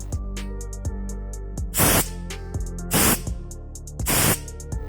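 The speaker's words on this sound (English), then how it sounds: "the emergency valve also releases the air" An emergency valve on a home-use hyperbaric chamber lifts and vents air in three loud, breathy bursts of about half a second each, with quieter clicks and a steady low hum between them.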